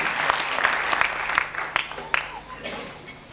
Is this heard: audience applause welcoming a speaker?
yes